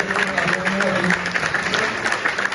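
Audience at a marketing company event claps together in a dense, close burst of applause that holds steady for a couple of seconds.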